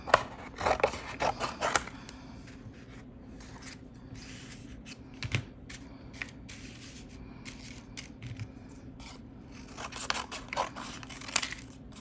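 Scissors snip paper journal labels in short bursts of crisp cuts close to the microphone, with quiet pauses and a little paper handling between them.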